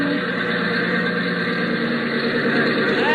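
A light aircraft engine running on a thinned fuel mixture drones loudly and steadily up close, a continuous throbbing hum with no voices.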